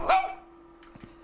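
Dog in the video game The Classrooms gives a single sharp bark, close and loud, followed by a few soft thumps and faint low sounds.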